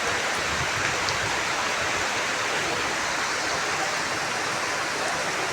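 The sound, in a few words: heavy rain falling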